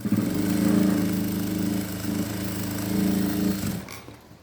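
A sewing machine running steadily while top-stitching a blouse lining, a continuous close motor whir with a fast rhythmic needle chatter that stops near the end.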